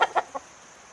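Three quick clucks from chickens in a video game about catching chickens to feed an ogre, closely spaced bursts followed by faint background hum.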